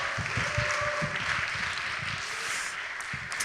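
Congregation applause at a Sunday young adults' church service, celebrating a pastor's ordination: steady clapping from many hands filling the room, sustained and fairly even throughout with no voices over it.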